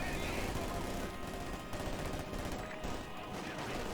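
Video game battle in which guards mow down grenadiers with gunfire, a dense continuous rattle of small-arms and machine-gun fire with crashes mixed in, fairly loud and steady, with a caster's voice faintly underneath.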